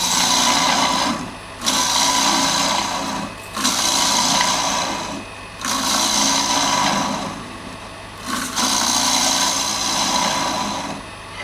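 An olive ash cup spins on a wood lathe, giving a steady, close whirring scrape of the cutting tool in four long passes, each broken by a brief pause.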